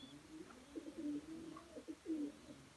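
A stray racing pigeon, lost during a 500 km race, gives a few faint, low cooing calls in quick succession in a quiet loft.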